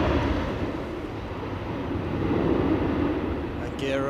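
A windy day at Edinburgh Airport, an airliner climbing out after takeoff with its gear coming up: a broad, steady jet roar, loud and continuous, with a voice talking faintly over it near the end.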